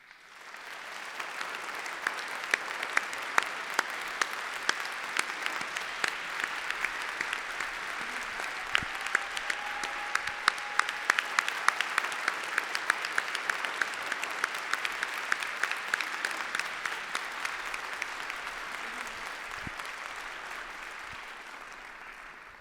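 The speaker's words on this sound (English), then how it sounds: "Applause is great." Long, even round of audience applause at a humanitarian award ceremony, a dense wash of clapping with sharper individual claps standing out, building slightly and holding steady before fading at the end.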